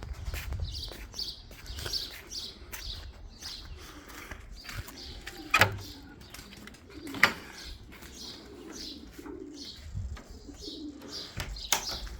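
Pigeons coo repeatedly in soft, rounded calls at 6:30 in the morning, with occasional chirps, light footsteps and a few sharp knocks in a quiet setting.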